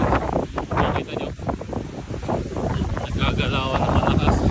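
Strong cyclone winds buffet the microphone on a New Zealand coast, roaring in loud uneven gusts with surf washing underneath while a person talks.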